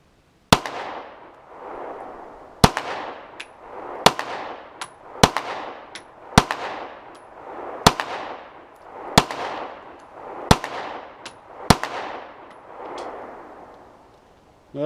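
Browning Hi-Power pistol shots fired one at a time at a steady, deliberate pace, about eight sharp, loud cracks, each followed by a ringing echo and a faint metallic ping, with no talking.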